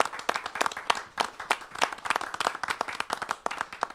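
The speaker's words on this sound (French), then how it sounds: "Je vous propose de les applaudir à Gwendoline et Florian qui arrivent" An audience at a Lozère cooking competition applauds the arriving contestant pair with brisk, continuous hand clapping, dense and close, sustained for several seconds without talk.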